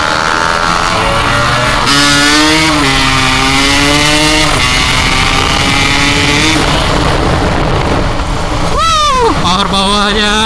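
A Yamaha RX King two-stroke motorcycle engine revs repeatedly, pitch climbing and dropping in rising surges with a sharp high rev near the end, loud and close under continuous wind noise.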